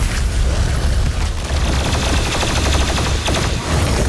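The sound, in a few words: BFG 10,000 firing in DOOM Eternal video game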